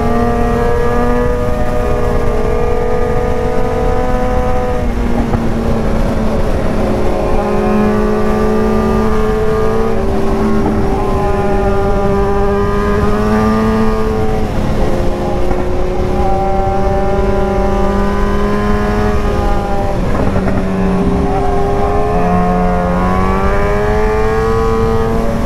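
Engines of a Kawasaki Z750 and a BMW S1000R motorcycle climbing a winding uphill road, with tones rising and falling through gear changes and throttle shifts, loud and close throughout.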